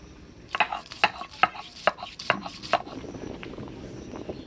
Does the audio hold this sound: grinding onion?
yes